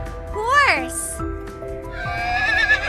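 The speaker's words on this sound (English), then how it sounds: "Horse." A horse whinnies in a loud, close, rising-then-falling neigh with rich harmonics, followed by softer snorting and a second shorter whinny, heard alone without talk.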